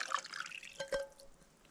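Filtered water trickles and drips into a cup while preparing a backpacking meal outdoors, a soft, faint splash that runs under a steady hiss of background noise.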